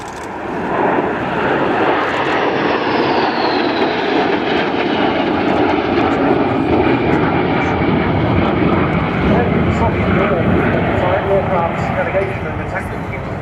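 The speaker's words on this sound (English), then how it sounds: "Continuing this racetrack pattern now as they run in for another pass." Sukhoi Su-22 Fitter jet roaring through a low pass at an airshow, a loud sustained broadband engine rumble that holds steady throughout, with a commentator talking over it on the public address.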